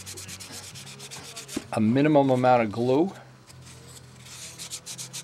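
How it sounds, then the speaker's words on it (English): Wood sanded by hand on a model build: a short, loud rubbing burst in the middle, with someone talking before and after it. "this is going to require just a little bit of extra sanding here"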